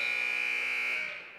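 A halftime buzzer at a high school girls' basketball game between Grand Rapids and Duluth Denfeld sounds as one steady, moderately quiet electronic tone that holds, then fades out.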